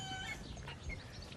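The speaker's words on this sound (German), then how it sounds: "das ist das Huhn" Chicken clucking softly at close range on a rural Swiss farm, a few low, scattered clucks over a quiet outdoor background, with no talking.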